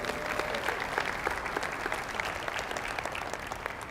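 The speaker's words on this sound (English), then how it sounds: "Can we give Jessica a round of applause" Audience applause at a motivational talk honoring teachers, a dense, steady wash of many hands clapping close by that holds at an even level for the whole stretch.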